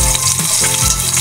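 Chopped onion sautés in a hot pan for a ginataan chopsuey, a loud, continuous close-up sizzle with faint stirring movement.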